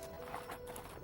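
Computer-generated horse trotting in the Koudelka video game, a steady clip-clop of hooves set against constant game background sound and music, with no talking.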